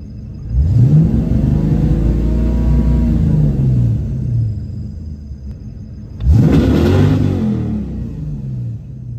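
A 1995 Ford Mustang GT V8 with a misfire revs twice. Each rise and fall in pitch is loud and close, with a rough, uneven note and faint popping under the rumble. Nobody speaks.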